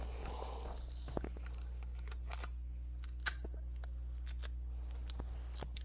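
Masking tape is torn and cut during work on a model car build, with sparse, quiet clicks and short snips scattered over a steady low hum.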